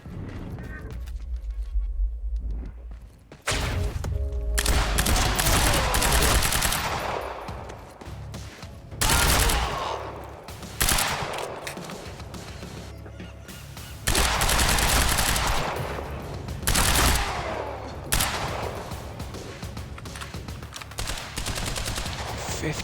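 Gunfire in Quantum Break rings out in heavy bursts and single loud shots, including pistol fire, with short gaps between volleys and some mechanical clatter.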